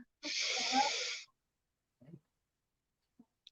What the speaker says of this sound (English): Inhale, big belly breath.